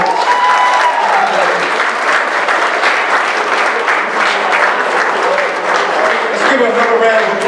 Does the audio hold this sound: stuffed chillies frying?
no